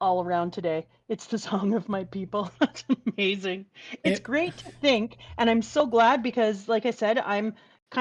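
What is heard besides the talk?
No everyday noise stands out behind the speech.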